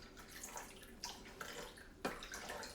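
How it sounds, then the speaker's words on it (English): Filtered water being poured for homemade almond milk, a soft, quiet trickling and splashing with a few small drips, close and steady, with a slightly stronger splash near the end. "500 grams of filtered water now"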